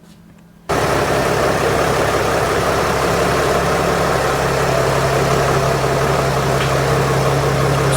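A Mercedes Sprinter van with a newly replaced transmission idles loudly and steadily after a quiet first moment, a constant low rumble with no voices.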